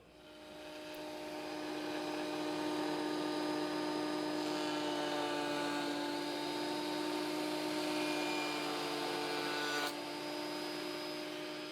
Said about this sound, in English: I'm going to plane this edge on this piece to make this a nice fit again